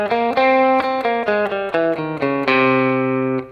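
Guitar runs through the Phrygian flat 4 scale, the third mode of harmonic major, as a quick sequence of separate picked notes with a bright, slightly driven tone. The last note is held and fades out.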